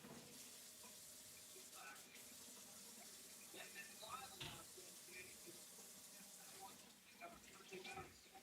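A tap runs in a sink with a steady, faint hiss of flowing water, carrying on throughout with small clinks and bumps and a bit of background chatter from a televised hockey game nearby.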